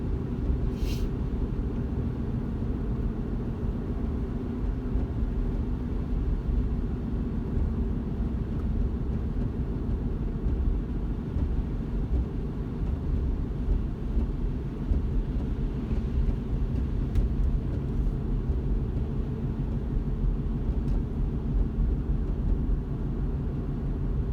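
Steady low cabin rumble inside a 2017 Chevrolet Colorado driving at speed, where a pulsating noise is reported; the drone stays even and continuous for the whole stretch with no voices.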